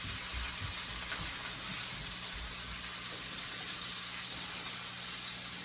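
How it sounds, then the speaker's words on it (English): Butter sizzles and crackles in a hot pan ahead of a porterhouse steak, a loud, continuous close hiss with faint low clunks and no voices. "We're just gonna start dropping some butter"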